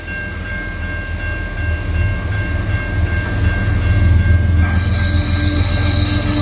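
A loud freight train rumbles past close by in the Fraser Canyon, British Columbia, with steady high-pitched wheel squeals ringing over the heavy rolling clatter throughout.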